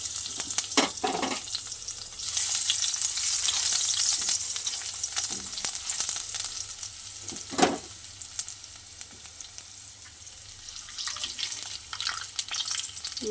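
Crushed garlic sizzles and fries in hot oil with panch phoron spices for a pumpkin greens curry, a steady bright hiss with occasional stirring scrapes, close and fairly quiet.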